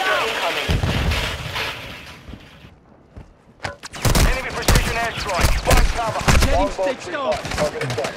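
Airstrike explosions in Call of Duty Warzone 2 boom and crackle in heavy bursts, a loud cluster early, then a brief lull before a fresh barrage of rapid blasts, with players talking over the gunfire throughout.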